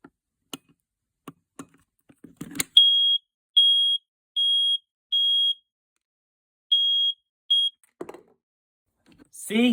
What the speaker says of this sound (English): This smoke alarm is very faulty, keeps going off.